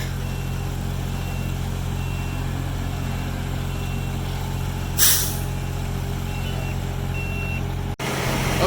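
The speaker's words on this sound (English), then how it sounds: "here comes our first concrete truck" A concrete truck arriving at a pre-dawn pad pour, its engine a steady low idle with intermittent reversing beeps and a short burst of air brake hiss midway, close by and without talk.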